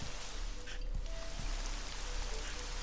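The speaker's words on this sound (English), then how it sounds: "if you want to grow some trees, you just put some rain somewhere and trees should be growing." Soft, steady rain hisses in the video game Idol Hands, a faint, even patter with no talk.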